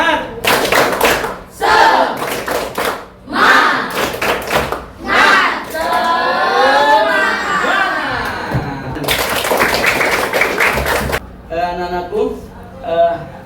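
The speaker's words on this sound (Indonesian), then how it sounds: "Tepuk semangat." Classroom clapping rhythm used as an ice breaker, with sharp bursts of patterned hand claps alternating with voices chanting and speaking, ending in a few quieter claps under talk.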